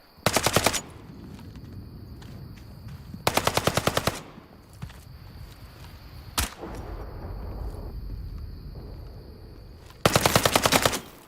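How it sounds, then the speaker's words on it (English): Bursts of rapid automatic gunfire from a Red River combat video game, three long loud volleys with a single sharp shot between them, over a steady low rumble of background noise. "Incoming fire!"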